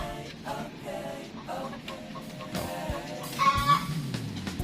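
Buff Orpington chickens in a farm coop cluck and murmur steadily throughout, a busy flock close by with a few louder calls near the end and no voices.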